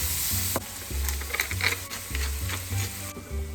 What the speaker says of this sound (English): First off, we're going to fry up some very finely chopped onions. And put into the chopped bacon as well. Give all that a mighty stir.